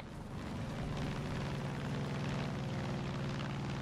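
Airplane engine in the video game Far Cry 5, a steady loud droning roar with a throbbing propeller hum throughout, no talking.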